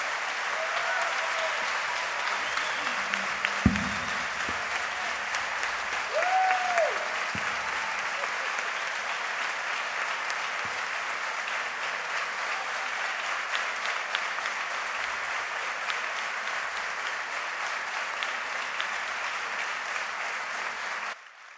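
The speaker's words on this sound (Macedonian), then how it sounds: "Јас ќе ве замолам еден голем аплауз." Sustained applause from a chamber orchestra concert audience at a culture centre in Bitola fills the hall steadily for about twenty seconds, with a couple of brief voice bursts early on before the clapping carries on evenly and fades at the end.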